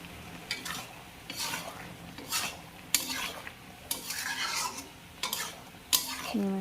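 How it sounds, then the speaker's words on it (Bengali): Shrimp being stirred in a hot cooking pot with taro stolons, a spoon scraping the pan in repeated strokes about once a second over a soft sizzle of frying, close and fairly loud. "এখন ভালো করে মিক্স করে নেব চিংড়ি মাছটা"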